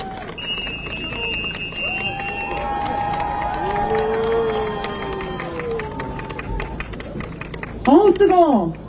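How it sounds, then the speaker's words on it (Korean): A crowd at an outdoor presidential campaign rally in Dongtan, South Korea, cheers and claps under amplified voices and rally music, the noise swelling and ending in a louder burst of shouting. "계속 큰 박수 부탁드립니다."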